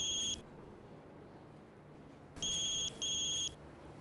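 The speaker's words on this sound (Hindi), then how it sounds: "उसका मोबाइल बज रहा है।" A mobile phone rings in a TV drama scene, a steady two-tone electronic trill in short bursts with pauses between, fairly clear over a low room hush and no talk.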